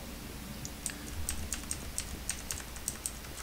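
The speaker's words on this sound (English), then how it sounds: "I love my loud keyboard" A loud computer keyboard clatters close up in quick, uneven bursts of keystrokes over a low background hum, with no voice.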